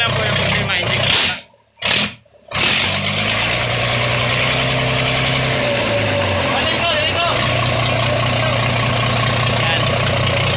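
A vehicle engine with a faulty number 1 injector idles in a loud, steady, continuous rumble, broken only by a couple of brief dropouts, while a voice can be heard over it.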